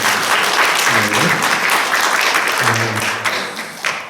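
Church congregation clapping together during a Sunday worship service, steady applause filling the space from start to finish with a voice briefly heard under it.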